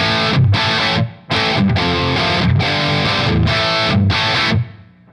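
Revv G20 lunchbox amp at aggression level 3 driving a saturated, bass-heavy distorted electric guitar with reverb, a driving riff of loud, tight bursts up close, trailing off into a short ring-out.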